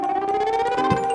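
Alarm sample triggered from an MPC in a live synth set, a steady electronic siren-like wail with sustained tonal lines and a low thump near the end, playing alone.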